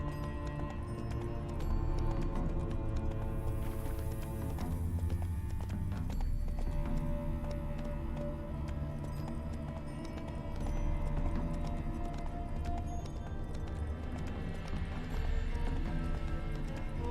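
Hooves pound in a fast, steady gallop close by in the video game The Witcher 3: Wild Hunt, a continuous rhythmic clatter with a brief whoosh of wind layered over it.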